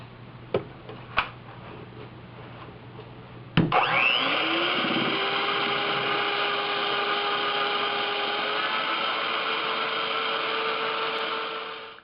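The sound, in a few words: electric mixer beating eggs while adding granulated sugar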